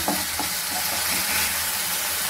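Prawns and drumstick pieces sizzling steadily in a pan as turmeric goes in for a pulusu, a loud, continuous close frying hiss with light stirring clatter and no talk.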